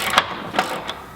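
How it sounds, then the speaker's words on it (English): A ratchet with a 24mm socket tightens the lower bolts of a rear bar on a Land Rover Discovery 2, three short metallic clicking pulls spaced evenly and close by. "Now with the 24mm socket and the shifter, let's tighten the 2 lower bolts."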